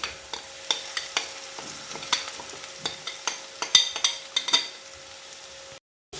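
A spoon repeatedly scrapes and stirs masala with crushed shallots and green chillies in a pan, a steady sizzle underneath and rhythmic clinks of metal, close and continuous until a brief cut near the end.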